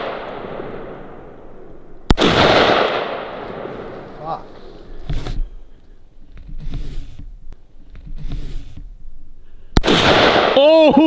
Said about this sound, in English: I'll shoot the can.